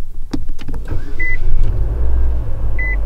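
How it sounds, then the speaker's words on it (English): A car being turned on inside a hot vehicle: a few clicks and a thump, then a low engine rumble builds and holds, with two short high chime beeps sounding over it. "I've got to turn this car on"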